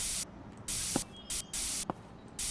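Room freshener spray in the video game Internet Cafe Simulator 2 gives four hissing aerosol bursts, each roughly a third to half a second long, close and loud, with small clicks between sprays.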